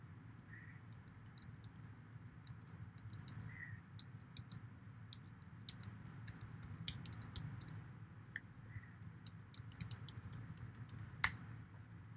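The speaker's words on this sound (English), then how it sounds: "and then here I'm just typing in" Soft, quick keystrokes on a computer keyboard tap in irregular bursts while logging into an account, faint and close against a low steady room hum, with no one talking.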